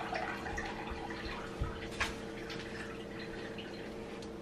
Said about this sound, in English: Put some extra water in the coffee maker.